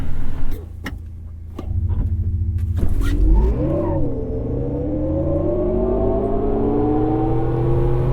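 Sharp clicks and clunks give way to a rising electric motor whine from a 2022 GMC Hummer EV pickup in launch mode, swooping up and down, then settling into a steady accelerating hum.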